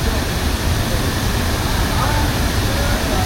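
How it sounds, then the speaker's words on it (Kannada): Abbi Falls in Sakleshpur roars with dense, loud, unbroken rushing water close by, a constant broadband wash with no pauses and no talk over it. "ಸಕಲೇಶಪುರದಲ್ಲಿರುವಂಥ ಅಬಿ ಫಾಲ್ಸ್"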